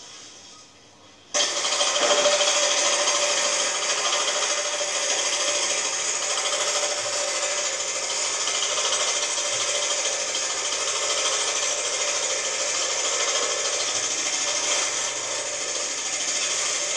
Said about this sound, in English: The machine does the sewing for the person who does the sewing.